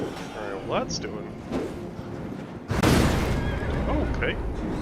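A horse neighs in the Elden Ring game amid combat sounds, followed by a loud crash. A person talks over it.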